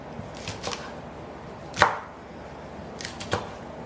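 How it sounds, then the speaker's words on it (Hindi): A knife roughly chops green herbs and chillies on a board, a few sparse, soft knocks with one sharper cut in the middle and a small cluster near the end, quiet and close, no talking. "रफली चॉप करूँगी मैं इसको"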